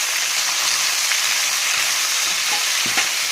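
Oil hisses and crackles with a steady, dense sizzle as food fries in a pan for uppad pachil, close and continuous, with a few faint scrapes near the end and no voices.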